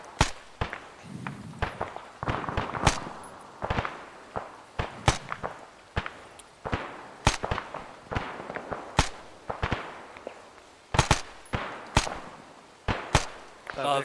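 Sharp gunshots crack repeatedly in a military video game, some in quick pairs and others spaced apart, with occasional footsteps and voices talking over the firing.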